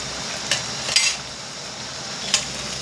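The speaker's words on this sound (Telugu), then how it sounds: "అల్లం ఒక 2 చెంచాలు వేసుకున్నాక మంచిగా ఇది ఆయిల్లో వేగనియండి" Ginger sputters gently in hot oil while cooking for a chicken curry, a soft steady sizzle broken by a few sharp clinks of a spoon against the pan, close and without talk.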